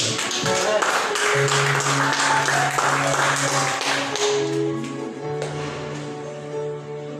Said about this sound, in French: Applaudissez le même.